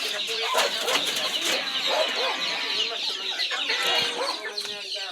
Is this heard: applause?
no